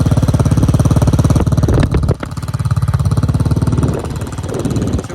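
A Hawk 250 motorcycle engine runs at a fairly high idle, a loud, close, rapid and steady exhaust pulse that dips briefly once with a couple of sharp mechanical clicks before resuming.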